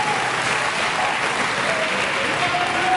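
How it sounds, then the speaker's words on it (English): Audience at a slam poetry competition applauds the speakers in a dense, steady burst of clapping, loud and continuous, with faint voices mixed into the crowd noise. "another round of applause for all our speakers today"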